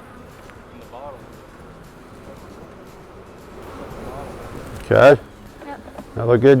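Honey bees buzz in a soft, steady drone at an opened beehive, continuous and fairly faint under people talking nearby.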